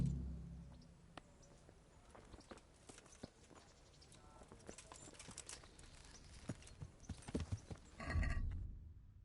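Horse hooves clip-clopping in the video game Kingdom Come: Deliverance, a steady walking rhythm of hoof falls under ambient game sound with a brief whinny, growing louder and busier near the end.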